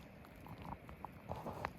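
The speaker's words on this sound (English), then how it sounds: "It's starting to hail." Hail falls during a backpacking trip at Rae Lakes in Kings Canyon, as small ice pellets patter and tick in irregular, close, quiet clicks over a soft background hush. No one speaks.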